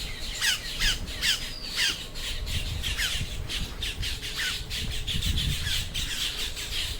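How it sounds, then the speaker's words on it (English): Birds at an Everglades safari park give loud, harsh squawks in rapid repeated bursts, several calls overlapping close by over a low rumbling background. "plenty of birds"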